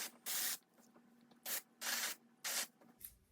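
Dry shampoo sprayed onto hair in four separate hissing bursts, each about a quarter to half a second long, with short gaps between them. The spray is close and fairly quiet.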